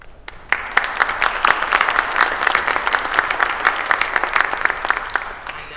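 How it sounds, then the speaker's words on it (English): Audience applause at a spelling bee, a dense burst of many people clapping that starts abruptly and holds steady, moderately loud and filling the room. "I applaud you as well."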